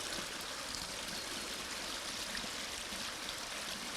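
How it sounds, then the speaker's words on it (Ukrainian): Floodwater running down a city street like a river after heavy downpours, a continuous broad rushing and splashing hiss of flowing water, steady and close with no voices. "Як ми бачимо, цією дорогою тече річка"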